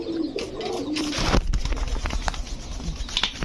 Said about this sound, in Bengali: একটা নর কবুতর দেখেন মাশাল্লাহ সবগুলো কবুতরই